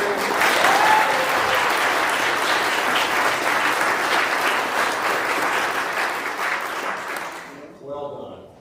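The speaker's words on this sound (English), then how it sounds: "can I just get a quick round of applause to Joan for the organ?" A church congregation claps for their organist, a dense and steady round of applause that holds for several seconds, thins out, and ends as a voice begins to speak.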